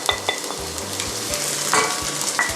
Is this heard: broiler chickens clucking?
no